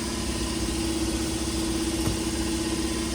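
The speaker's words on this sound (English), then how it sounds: "So I hope y'all can hear me over the sound of this pump." A pump runs beside a Corvette Z06 with manhole-cover damage, giving a steady, continuous low mechanical hum and drone that stays even and unbroken throughout.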